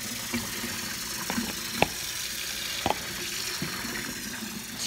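Water runs steadily from a tap as a bat is rinsed off, a constant hiss with a few brief knocks and splashes standing out, close by and without talk.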